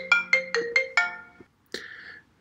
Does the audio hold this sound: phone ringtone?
yes